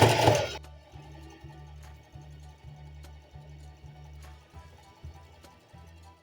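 A domestic sewing machine runs a zigzag stitch on cotton panties in rapid bursts, its motor whirring in short repeated runs separated by brief pauses, close and clear after an initial rustle.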